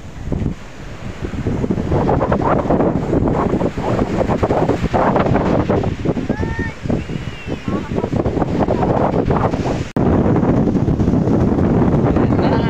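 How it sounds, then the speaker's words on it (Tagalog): Loud, constant wind buffeting the microphone, roaring throughout with a brief dropout near the end, voices faintly mixed in. "Grabe ang hangin."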